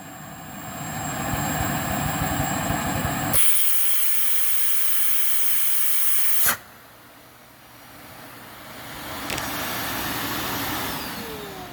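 A Hoover CH32008 Hushtone vacuum cleaner runs with a loud steady roar, then the pitch jumps to a shrill hiss as the nozzle is covered, followed by a sudden drop and strained whine as suction builds.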